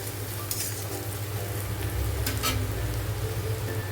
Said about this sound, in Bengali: রসুনটা দিলাম আর কাঁচা লঙ্কাটা দিলাম দিয়ে এটাও আমি ভেজে নেবো ভালো করে